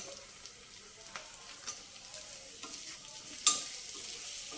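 Radish pieces sizzle and get stirred in a frying pan with onions already fried, for a radish-leaf lentil-dumpling tamarind stew; a soft steady fry with scattered light scrapes and one sharper clink near the end.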